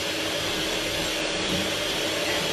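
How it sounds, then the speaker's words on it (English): An electric mixer whisking icing sugar into a mixture on low speed gives a steady, close, even whirring drone that stays constant from start to finish with no talk. "she is going to whisk again on a nice low speed"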